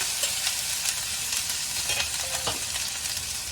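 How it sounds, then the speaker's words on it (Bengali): Black cumin seeds, whole cumin and crushed ginger tempering in hot oil for a Bengali onion-free curry, giving a steady close sizzle with faint crackles and light stirring scrapes throughout. "এর মধ্যে আমি কালো জিরে ফোড়ন দিলাম, একটু গোটা জিরে ফোড়ন দিলাম, একটু আদা থেতো করা দিয়ে দিলাম"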